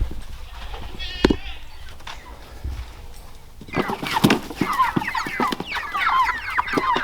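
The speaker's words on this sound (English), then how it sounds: "there's your meat chickens, Bryce." Meat chickens on a farm cluck and squawk in a busy flock, loud and close, with a few scattered calls at first, then continuous overlapping clucking.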